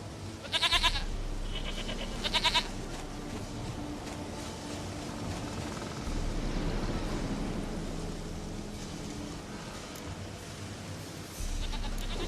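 A goat in The Witcher 3 video game gives two short, bright bleats near the start. Then a low, steady game ambience carries on with no further calls.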